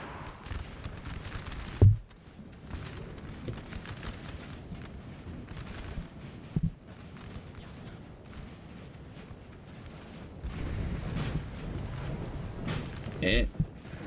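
Heavy artillery booms in a Napoleon Total War battle, with a couple of sharp loud reports standing out over a steady rumbling battlefield din of distant cannon fire.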